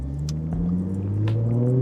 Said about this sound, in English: this car sounds really different, very different than other cars